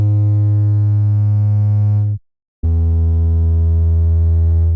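An 808 bass run through Fruity Blood Overdrive distortion plays two long, loud, buzzing sustained notes rich in harmonics, separated by a brief silence.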